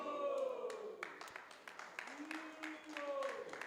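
A Sunday feast audience at a Hare Krishna temple gives a thin, scattered clap. The sparse hand claps sit under a voice that keeps talking throughout.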